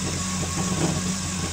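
Steady low hum of an idling Yamaha AR240 jet boat engine with a constant drone, close and even, no talk.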